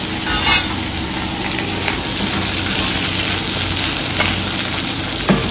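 Fish pieces rubbed with salt and turmeric fry loudly in a pan, with a dense, constant close sizzle and occasional scraping thumps as they are turned and stirred.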